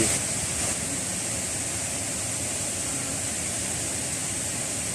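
Natural spring water welling up from underground and flowing year-round at a clear pool in Pak Chong, Nakhon Ratchasima, a steady broadband rushing wash, close and constant without breaks.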